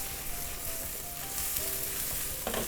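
Eggplant stir-fries in oil over high heat for a tomato ragu pasta, a close, steady sizzle with stirring scrapes and a sharper clatter near the end.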